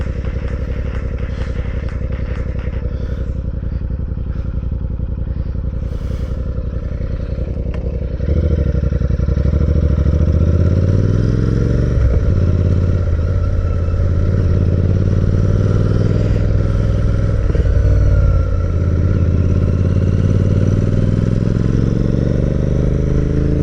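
Scooters and motorcycles ride close by in traffic, with engines droning and revving steadily, growing louder and fuller partway through, along with some rattling clatter.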